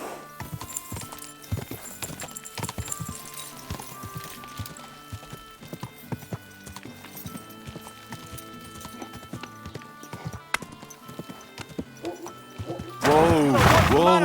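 Hooves clip-clop at a gallop in the medieval video game Kingdom Come Deliverance 2, a steady loud rhythm throughout with shouting voices, then a horse whinnies loudly at the end.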